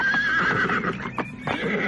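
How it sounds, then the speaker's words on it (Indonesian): A horse neighs with a shrill whinny as a horse-drawn carriage arrives in a village, followed by clip-clopping hooves, close and clear, with no voices. "Suara kereta kuda yang masuk ke perkampungan ini adalah sebuah pemandangan yang janggal"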